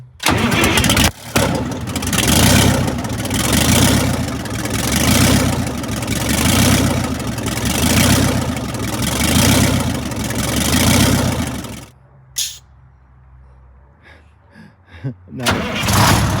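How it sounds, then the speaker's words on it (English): A loud Detroit Diesel 8V71 engine with open exhaust manifolds runs with a rough, open-exhaust roar for about twelve seconds, then cuts out, leaving faint knocks and rustling. "the engine's so loud because we have it's just open exhaust manifolds right now"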